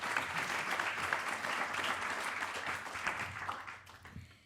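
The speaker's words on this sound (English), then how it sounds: "Please give her a warm round of applause." Warm applause from a seated audience at a One Health Summit high-level session welcoming a speaker, steady clapping that holds at moderate level then tapers off at the end.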